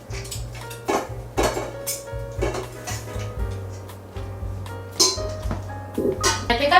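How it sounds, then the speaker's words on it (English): Ingredients for a Vietnamese beef stew (bò kho) go into an Instant Pot, with repeated clanks of pots, dishes and utensils, rustling and thuds at close range, no talk. "So we will put everything into this Instant Pot."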